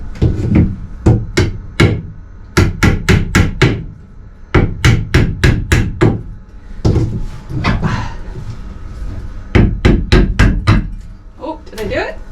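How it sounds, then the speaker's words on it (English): Rapid, loud hammer blows on a chisel, working a glued-on part off a boat in cold winter conditions, come in quick bursts of sharp, woody knocks with brief pauses between runs. "I'm gonna try and chisel it off because I cannot get it off"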